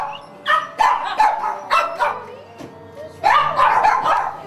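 Several shelter dogs bark and yip in quick bursts, loud and close, with short whimpers between the volleys and no talking.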